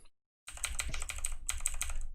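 Rapid typing on a Razer Chroma computer keyboard, a dense stream of close, fairly quiet key clicks after a brief silence, with no voices.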